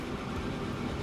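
Steam locomotive in the Transport Fever 2 game rumbling steadily along the line, a dense low continuous chug and rail noise at moderate level with no distinct beats standing out.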